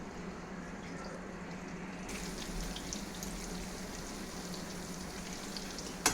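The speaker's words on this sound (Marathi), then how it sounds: "आणि झाकण लावून मीडियम गॅसवरती आधी एक साईड फ्राय झाली की आपण दुसरी साईड फ्राय करून घेऊया." Prawns coated in rawa frying in a covered pan over medium gas, a steady close sizzle and crackle of hot oil continuing throughout, with a small clink near the end.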